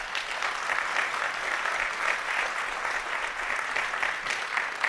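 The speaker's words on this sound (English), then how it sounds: "We applaud you and appreciate you." Audience at a conference plenary session claps steadily, a dense, even applause heard from within the room, with no speech over it.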